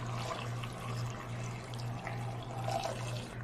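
Three cups of water pour into an Instant Pot, a steady splashing trickle over a low electrical hum, close and moderate in level, with no talking.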